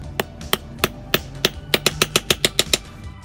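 A restored, formerly rusty claw hammer strikes repeatedly and loudly, about a dozen sharp, close blows with uneven spacing at first, then quickening into a fast regular run, with no talking.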